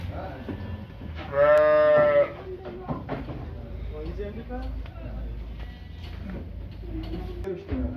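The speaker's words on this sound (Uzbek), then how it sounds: "Hammasi shu bugun kelgan qo'ylar mana." A loud sheep bleat rings out for about a second amid a busy pen, with people talking and other animal noises around it.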